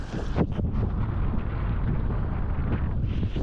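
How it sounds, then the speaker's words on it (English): Wind at a reservoir buffets the microphone in a steady, loud, low rush with a few stronger gusts across a short stretch, no voices. "You see how windy it is."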